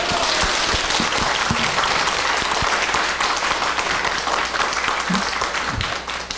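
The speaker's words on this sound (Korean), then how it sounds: "다시 한번 큰 박수 부탁드리겠습니다" Sustained audience applause fills a lecture hall after a talk on health and self-care, dense steady clapping throughout with no voices over it, tapering slightly at the end.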